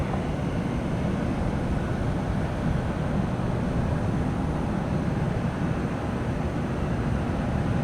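Continuous broad roar of a United Boeing 737-800 airliner at Tampa airport, loud and steady throughout with no breaks, heard alone without talk.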